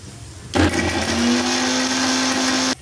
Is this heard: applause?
no